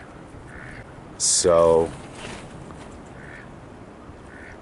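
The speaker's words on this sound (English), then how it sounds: "I got a couple of mallards swimming around, and they're wild, they're not mine." A wild mallard duck gives a short burst of quacks close by, standing out clearly above steady outdoor background noise.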